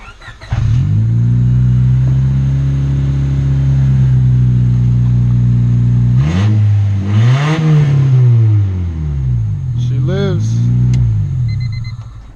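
A car engine fires for its first start-up after an engine swap, settling into a loud steady idle before several revs climb and fall, close up, with brief talk near the end.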